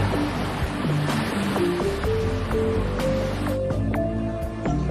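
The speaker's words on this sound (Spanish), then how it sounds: "el mar bate sin pereza" Sea waves breaking continuously on the rocky coast at Taganana in Tenerife's Anaga area, a steady loud surf wash with music playing over it throughout.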